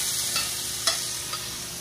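Steak searing in a hot pan, a steady broadband sizzle of fat crackling throughout, with a few brief louder pops standing out against the constant frying hiss.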